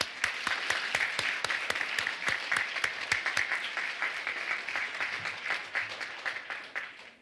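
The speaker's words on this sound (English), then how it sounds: "give yourselves a round of applause" Kids, teachers and guests applaud at a Kid Governor inauguration ceremony in Connecticut's Old State House, steady dense clapping with a few sharp close claps early on, holding for about seven seconds before tapering.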